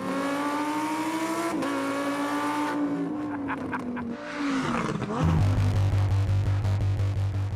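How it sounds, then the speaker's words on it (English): Loud, close V10 howl from a Lamborghini Huracan Performante, engine and exhaust revving and climbing, then shifting and settling into a deep, heavy drone near the end. "Love the sound of a V10."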